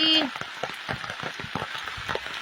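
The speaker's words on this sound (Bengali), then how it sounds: "চারিদিকে এতই বৃষ্টি" Steady rain patters on a surface in Agartala, India, with scattered drops, preceded by a short tonal chirp at the start.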